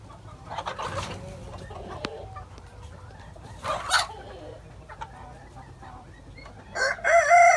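Araucana chickens, including silver duckwing birds, cluck on a farm while a rooster crows, calls recurring in several close bursts with a louder crow at the end.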